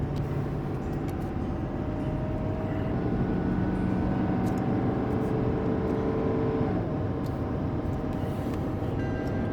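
Ram Cummins diesel truck with a 5-inch straight pipe pulling uphill on a steep 12% grade, heard as a steady, loud, continuous engine drone from inside the cab with no talking.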